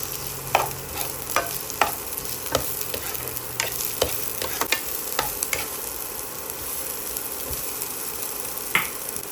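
Garlic and onion frying in a pan, a steady close sizzle with repeated sharp scrapes and clinks of a utensil stirring through it.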